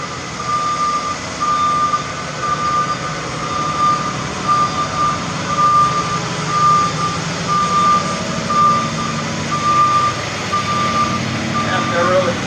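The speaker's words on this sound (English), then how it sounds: "Got a big truck coming." A big truck reverses nearby, its backup alarm beeping in a steady, evenly spaced pattern for the whole stretch over a constant low rumble of traffic and engine.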